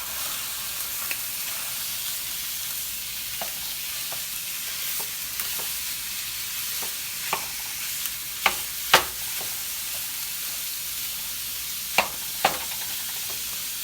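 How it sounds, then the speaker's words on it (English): Picadillo meat browns in a pan with a constant close sizzle and hiss, broken by occasional scraping taps of a spoon. There is no talking. "So we're just going to get this browned up"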